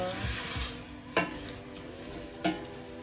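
Butter is stirred into a traditional Moroccan couscous stew in a pot under a low, steady sizzle, with two sharp spoon clinks against the pot rim and no talking.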